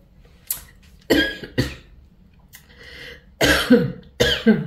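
Several sharp coughs in irregular bursts, close and fairly loud, with short quiet gaps between them.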